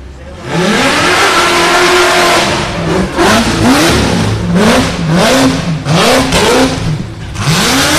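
An ATV hill-climb buggy on the start line at Rush Springs Ranch, Pineville, Missouri, revs loudly and close, its engine climbing and falling again and again in rapid throttle blips that rise in pitch over a steady roaring base.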